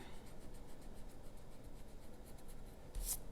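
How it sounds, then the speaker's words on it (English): Pencil lines being erased from a hummingbird drawing, a faint, soft rubbing scratch repeated in quick strokes, close and quiet, ending with a slightly louder brush. "I'm going to erase the lines in here"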